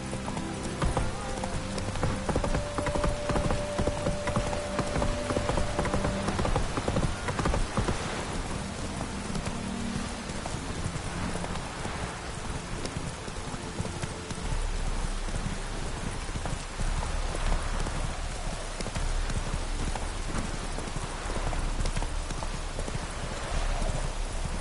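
Horse galloping in The Witcher 3 video game, steady rapid clip-clop hoofbeats under constant rainfall, with a deep rumble joining later and a brief faint whinny-like tone, moderately loud throughout.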